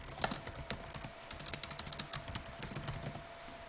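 Fast, uneven keystrokes on a computer keyboard as a group name is typed into real estate transaction software, crisp and close, with no talk.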